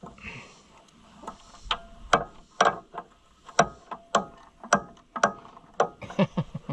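Wrench tightening bolts on a White Iseki 2-65 tractor, a series of sharp, irregular ratcheting clicks and metallic taps, close and moderately quiet, with short pauses between bursts.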